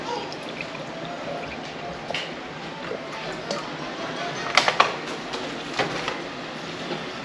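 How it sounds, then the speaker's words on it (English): A cup of water is poured into a cooking pot on a home stove, a soft, fairly quiet trickle with a few sharper splashes and knocks partway through, while someone talks nearby. "now we're going to add a cup of water"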